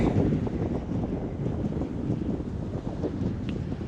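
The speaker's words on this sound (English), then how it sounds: "Wind's still blowing" Steady wind gusts across a beach at Lido Key in a red tide at sunrise, a broad continuous rush that buffets the microphone with no talk.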